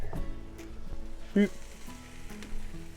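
Carrot hits a pan of cooked onions and sizzles gently, with a soft steady frying hiss, a few clanks of utensils and quiet talk nearby.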